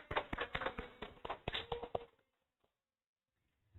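Classroom applause for a student group, a short ragged burst of hand claps lasting about two seconds before cutting off into near silence.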